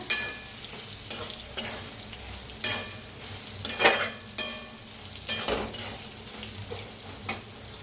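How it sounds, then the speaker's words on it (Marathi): Sesame seeds roasting with green chillies in a pan, crackling and sizzling with stirring scrapes and occasional sharp pops, close and steady with no talk. "त्याच्यात टाकूया तीळ, तिळाला बी भाजायचे या संगत।"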